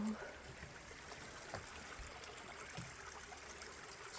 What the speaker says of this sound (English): it's a little creek